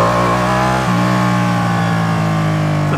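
A new Chevrolet Corvette sports car engine revs loudly and close by near the old Calgary Stampede grounds, holding a steady droning tone that steps up in pitch partway through and stays strong to the end.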